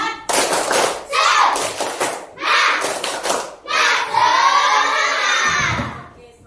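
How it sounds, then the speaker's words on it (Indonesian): Schoolchildren in a primary classroom do a rhythmic group spirit clap, tepuk semangat, with several loud bursts of clapping and shouting in unison, then a long drawn-out cheer from the whole class. "Tepuk semangat."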